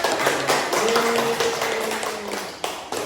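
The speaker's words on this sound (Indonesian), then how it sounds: "Beri tepuk tangan dulu untuk kelompok 1 posternya" Classroom applause for a student group's poster presentation on the Prophet's Hijrah: a dense, steady patter of clapping hands that holds for about three seconds, with a faint voice-like tone running underneath.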